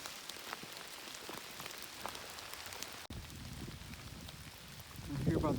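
Steady rain patters on a surface nearby on the Appalachian Trail near the Blue Ridge Parkway, with scattered drops and a brief rustle, then a louder wash of water toward the end.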